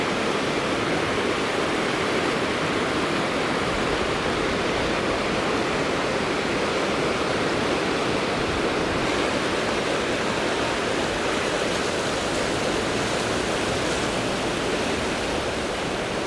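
Floodwater rushes along a swollen river after heavy rainfall, a steady, loud broadband roar like a waterfall that stays constant and unbroken from start to finish, with no voices.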